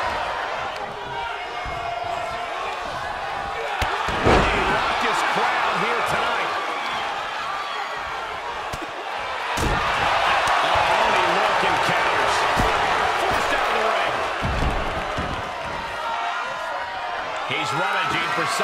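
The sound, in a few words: raucous wrestling crowd cheering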